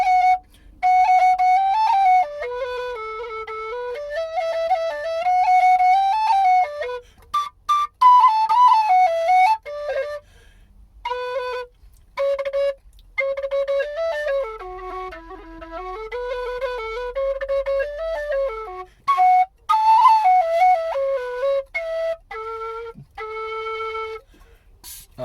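A Dante collapsible low D whistle plays a lilting melody of sustained notes with ornaments, close and clear, broken by short pauses and played alone with no talking.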